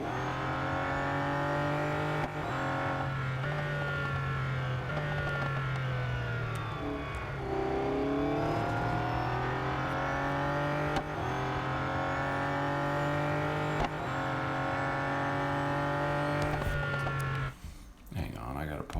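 A Honda NSX race car engine in the Real Racing 3 mobile game drones steadily through gear changes, its pitch rising and dropping, heard continuously for the whole stretch under a speaker's narration before it cuts out at the end.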